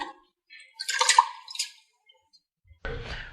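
Sprout vegetables being gently swished and rinsed in water, giving a few soft splashy swirls of water in a quiet kitchen, then a brief louder rustle of handling at the end.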